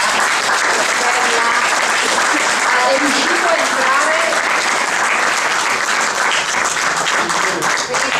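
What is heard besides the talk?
audience applauding at documentary presentation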